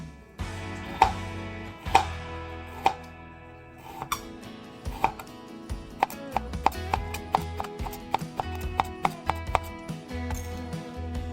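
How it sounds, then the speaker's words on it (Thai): Knife slicing cucumber into thin rounds on a cutting board for a Korean cucumber side dish, a steady series of crisp, close chops that speeds up into a quicker rhythm. "แตงกวาเนาะภาษาเกาหลีเรียกว่าโออีนะคะนำมาหั่นเป็นแว่นนะคะ"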